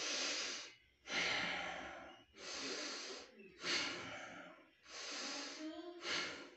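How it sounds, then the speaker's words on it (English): Slow, deep breaths taken while lying prone for oxygen improvement, about five long noisy inhale-exhale bursts with short quiet gaps, close and fairly soft, breathy and hissing. "and start deep breathing"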